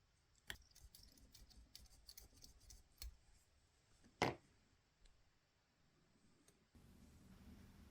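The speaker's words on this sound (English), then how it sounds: "Here's a little test of cutting through the thick part of the plastic runner." A Jakemy ultrasonic cutter slices through a thick plastic hobby-kit runner, giving a run of small sharp clicks and ticks, one louder crunchy snap near the middle, then a faint steady hum, all close and quiet with no talk.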